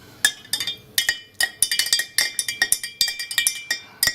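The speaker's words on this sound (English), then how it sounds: "we're going to give it a bit of a stir" Metal spoon stirring coconut milk and syrup in a glass for a Javanese dawet drink, producing a rapid series of bright, close clinks in a steady rhythm, with no talking.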